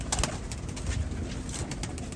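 Soft, low cooing from Jonsirre Teddy pigeons, repeated in short rounded phrases, with light rustling and fluttering close by.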